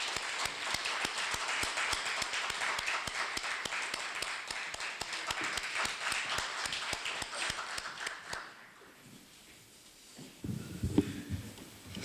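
Loud, dense audience applause fills a university auditorium during a renovation completion ceremony, steady for about eight seconds before fading to quiet with faint rustling.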